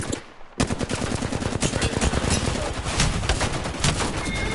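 Rapid automatic gunfire in a battle royale video game firefight, a dense, continuous burst of shots fired close and loud, with repeated sharp cracks for several seconds and some faint bird chirps behind.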